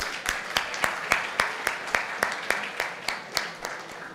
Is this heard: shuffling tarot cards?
no